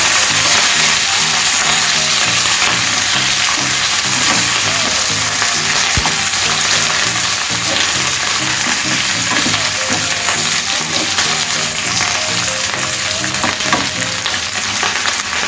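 Curry leaves with green and dried red chilies fry in hot oil, a loud, dense, unbroken sizzle that holds steady throughout, with faint stirring and one small tap near the middle.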